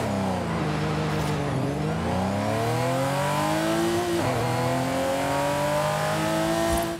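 A Ferrari 512 TR's 4.94-litre engine revs up and down repeatedly in the Forza Horizon 5 video game, a loud, close, rising and falling roar with no voices over it.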